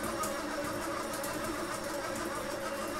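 A small electric motor runs steadily nearby with a dense, continuous whirring drone and a faint rhythmic rattle, and no talking over it.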